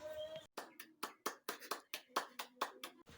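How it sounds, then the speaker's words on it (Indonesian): A run of about a dozen sharp hand claps at a steady, slightly uneven rhythm, close and clear, following a brief faint tone at the start. "Yang kedua yaitu suara tepuk tangan."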